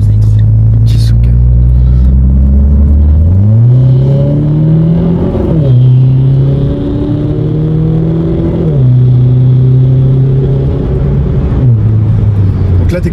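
A Renault Clio 4 RS Trophy engine revs and pulls hard while driving, rising through several gears with loud, close rumbling pitch climbs and brief drops at each shift.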